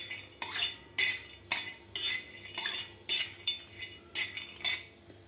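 Coconut slices roast on an iron griddle for a drumstick and potato curry. A spatula scrapes and clinks against the metal in a quick, regular rhythm of about eight close, crisp strokes.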